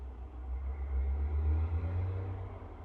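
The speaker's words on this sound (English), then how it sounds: "And a loud truck goes by." A loud truck passes outside as a low, steady engine rumble that swells and then eases slightly over a few seconds, with no voices over it.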